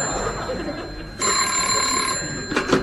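An old-fashioned telephone bell rings in a vintage radio comedy, two bright ringing bursts separated by a short pause, clear and fairly close, with no talking over it.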